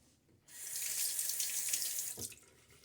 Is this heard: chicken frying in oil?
no